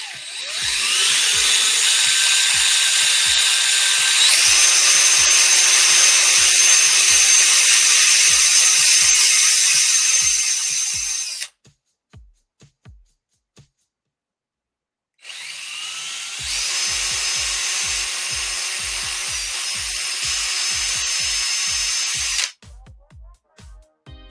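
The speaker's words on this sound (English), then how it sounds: "we're still trying to get this darn bead drilled" A power drill bores through a bead in two long sustained runs of steady high whine, broken by a few seconds of near silence and brief rattles, with no talk over it.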